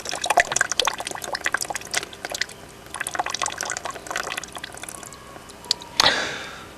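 Water drains from an outdoor tap at a static park home being winterised, giving a steady trickle with scattered drips and splashes and a louder gush near the end.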